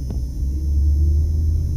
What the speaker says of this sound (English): And traffic is moving once again here.